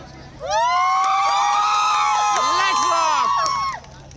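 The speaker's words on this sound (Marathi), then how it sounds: "मला वाटतं प्रेक्षकांच्या टाळ्या आणि त्यांचा एकदा आवाज त्यांच्यापर्यंत पोहोचला ना तर मजा येईल." A festival audience cheers and shouts together in a loud, sustained burst of many voices lasting about three seconds, with whoops rising above the crowd.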